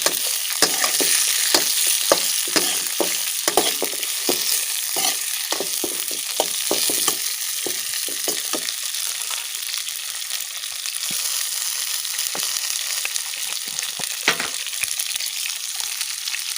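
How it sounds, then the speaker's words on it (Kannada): Chopped long beans frying in a pan for a traditional palya, a bright continuous sizzle punctuated by rapid scraping and tapping strokes of stirring that thin out partway through. "ಇವಾಗ ಕಟ್ ಮಾಡಿಟ್ಟ ಅಲಸಂದೆಯನ್ನು ಇದಕ್ಕೆ ಹಾಕಿ ಅಲ್ವಾ. ಚೆನ್ನಾಗಿ ಮಡಿಕೊಳ್ಬೇಕು."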